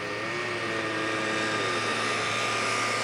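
A scale model aircraft engine drones steadily and loudly through a crash landing pass at a scale aircraft show, a continuous buzzing whine with a slowly wavering pitch.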